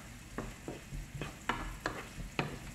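Bitter gourd (ampalaya) is stir-fried in a pan, with a soft steady sizzle and about six distinct scraping strokes of a spatula at a fairly even rhythm.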